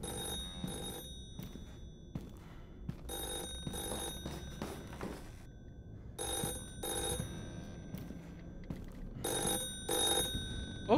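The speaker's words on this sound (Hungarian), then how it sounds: "Ó, megcsörönt a telefon." An old-style telephone bell rings in repeated bursts with pauses between them in the horror video game The Floor Is Breathing, set against a low ambient drone.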